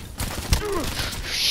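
Gunfire from a video game, a few sharp shots with a heavy thud among them, set against a busy game backdrop with a faint whooshing sweep.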